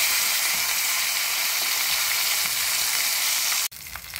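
Curry leaves sizzle and spit loudly in hot oil for a raw mango chutney tempering, a steady close crackle that fills the clip and then drops abruptly near the end.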